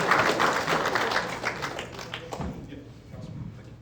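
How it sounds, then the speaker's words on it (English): Crowd applause for Councilman Dozier at a Vine City Walmart press conference in Atlanta, a steady patter of clapping that gradually thins out over a few seconds, with some voices mixed in. "Y'all give him a round of applause"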